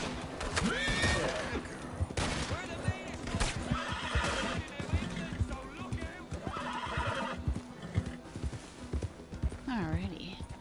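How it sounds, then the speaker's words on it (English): A horse neighs and whinnies with clip-clopping hooves in an online Western shooter, sounding close over continuous game noise, voices and chatter. "If you guys are gonna shoot my horse, we're just gonna leave my horse."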